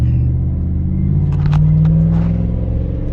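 A deep, steady exhaust rumble from a 2003 Chevy Tahoe SUV drones close by, with a low engine tone that swells slightly midway and brief faint clicks over the top.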